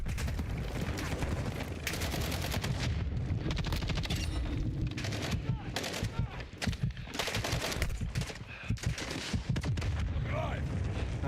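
Dense, continuous gunfire and explosions from a Black Ops 6 match, with rapid bursts, heavy booms and overlapping shots that keep the battle loud throughout.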